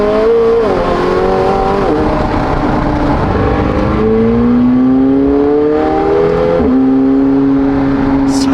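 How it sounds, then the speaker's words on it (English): A car in Texas revs hard and accelerates through several gear changes, its engine note climbing and dropping repeatedly, loud and continuous for the whole stretch with no talk. "Such a good sounding car."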